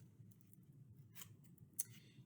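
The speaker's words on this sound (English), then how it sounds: "You're going to just cut off several strips of those streamers." Scissors snip through paper streamers for craft strips, with quiet crisp cuts and a sharper snip near the end over a low background hum.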